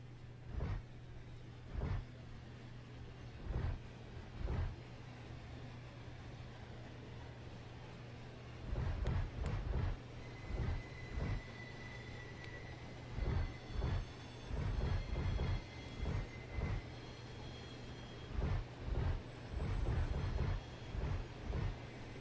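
A locomotive in the Run 8 Train Simulator game rolls along with a steady low hum, regular rhythmic wheel clacks over rail joints and occasional faint squeals, moderately loud with no voices.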